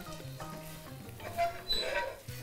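Onions caramelize in a pan for onion soup, giving a soft, steady sizzle with occasional stirring scrapes, quiet and close.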